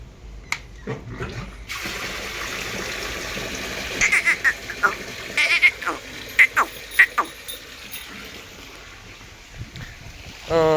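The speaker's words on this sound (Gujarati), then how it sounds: "ચાલો થોડુંક પાણી કુંડીમાં ભરી લઈએ" Water running and splashing into a livestock trough, a wet gushing flow with irregular splashes and gurgles, joined by some scattered knocks and background sounds.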